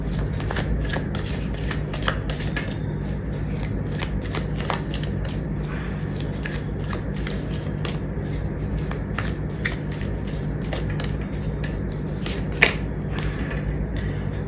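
Tarot cards are shuffled by hand continuously and up close, a steady riffling and flicking that keeps going with only brief pauses, with a faint sharp snap near the end.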